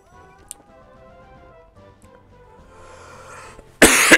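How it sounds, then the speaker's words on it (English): A single loud, harsh cough bursts out near the end, close to the listener, after a few seconds of quiet room background. "I got a bit of a cough"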